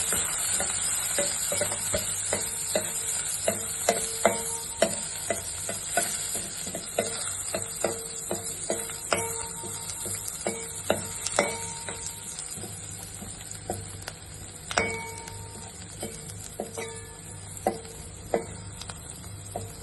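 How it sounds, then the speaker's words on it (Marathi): Finely chopped onions frying in hot oil over low gas with a steady sizzle, punctuated by repeated scraping and clinking of a spoon stirring the pan; no talking. "आता यात तेल तापला, त्याच्यात घालायचं बारीक चिरलेलो कांदो, फोडणी कर."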